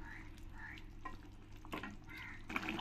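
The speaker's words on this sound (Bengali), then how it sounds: "ভালো করে নাড়িয়ে দেব।" Katla fish curry being stirred in a pan, faint low sizzling with soft scraping strokes and a few light clinks, quiet and close.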